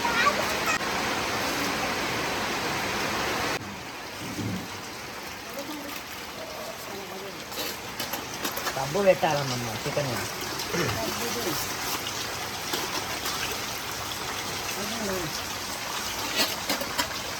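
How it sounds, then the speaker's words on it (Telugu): Heavy rain pours down in a steady, loud hiss, with people talking over it partway through. "వర్షం అయితే ఫుల్గా వస్తుంది."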